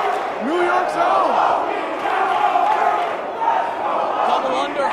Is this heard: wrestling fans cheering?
yes